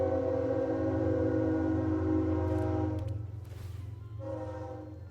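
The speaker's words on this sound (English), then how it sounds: "Here comes the train, making its presence known." A loud sustained train horn blast from a Magic: The Gathering digital card game, a rich chord held for about three seconds, then cut off and briefly sounded again more quietly, no voices.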